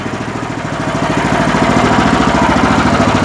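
A WEIMA walk-behind tractor engine runs close by with a steady, rapid single-cylinder chug that stays loud and even throughout, with no talking.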